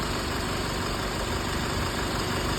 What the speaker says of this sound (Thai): เครื่องยนต์เดินนิ่ง ๆ ครับ